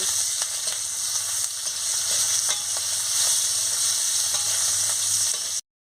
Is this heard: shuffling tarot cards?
no